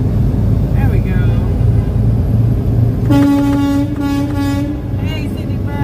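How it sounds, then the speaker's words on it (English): Several car horns honk from a roadside, with a sustained horn blast and overlapping toots over steady traffic rumble, loud and close. "They're all honking their horns."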